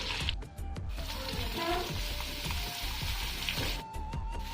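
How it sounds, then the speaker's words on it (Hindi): Chopped onion and green chili sizzle and fry steadily in a pan, with occasional stirring scrapes and clinks, close and continuous. "प्याज और कंचा लंका को भी देकी भल भाव को भाजीदेवी"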